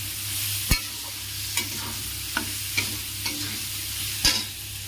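Boiled soybeans are stirred into cooked rice in a frying pan over a soft steady sizzle, with a series of sharp spatula scrapes and taps spaced a second or so apart. No one speaks.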